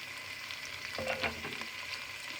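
Mutton for karela gosht simmers in a pan over a low flame, giving a steady, close frying hiss with a brief, slightly louder stirring burst partway through.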